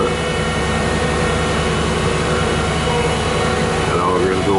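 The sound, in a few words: asphalt paver auger pulling in asphalt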